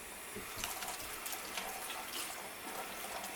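Water running steadily from a tap over hair as it is wetted before a shampoo wash. The flow is close and moderately quiet, with an even broadband splash and no voices.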